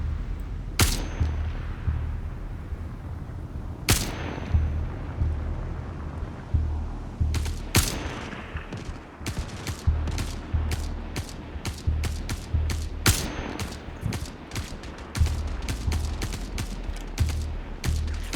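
Gunfire in a firefight in the video game Star Citizen: a loud, sustained exchange of sharp shots, with isolated single reports at first and then dense, rapid bursts near the end over a continuous low rumble.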